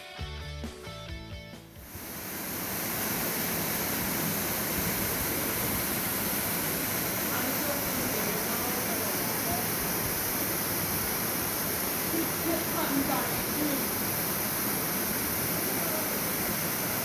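Waterfall on an Arkansas hike, a steady broadband roar of falling water that holds loud and unbroken after a brief rustle at the start.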